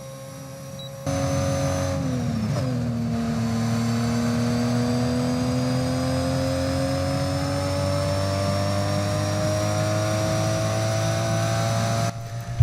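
A Formula 1 car fitted with a supercar engine in the F1 22 video game accelerates, its engine note climbing steadily in a loud, sustained drone after a brief drop as a gear shifts.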